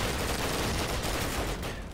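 Heavy gunfire from a competitive video game match roars continuously, loud and dense, tailing off slightly at the end.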